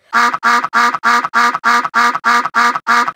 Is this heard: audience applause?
no